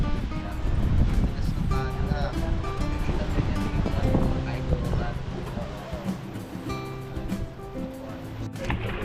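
Strong sea waves surge and crash continuously along the shore, with wind buffeting the mic and people talking over the water while waiting for a boat.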